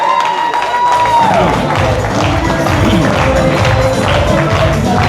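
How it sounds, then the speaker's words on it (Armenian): Guests applauding together at a festive Armenian engagement celebration, steady dense clapping filling the room, with crowd voices and some talk mixed in throughout. "բոլորն էլ ուրախ են ծափերով էլ ձեր ուրախությունը ցույց տվեք"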